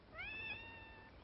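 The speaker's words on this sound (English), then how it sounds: "Nice kitty." A cat gives one drawn-out meow, clear and fairly close, rising and then holding its pitch over quiet background hiss.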